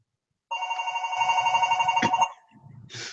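A telephone rings with a sustained electronic trill for about two seconds, fairly loud and close, followed by a brief second burst and faint room noise.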